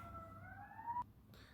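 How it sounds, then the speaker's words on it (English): An emergency siren wails in a rising tone and cuts off abruptly after about a second, passing by at moderate distance. "I am so sorry for these sirens."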